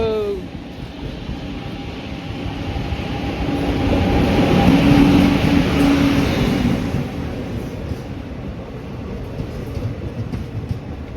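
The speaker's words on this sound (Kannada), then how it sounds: "ಟ್ರೈನ್ ಬಂತು." A train rumbles into a station with a low, continuous roar that swells to a peak midway, then eases off as it slows.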